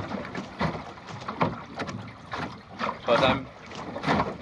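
Small sailing dinghy moving along in light wind, with gentle water lapping and soft wind rustle at the microphone, while a person talks quietly nearby.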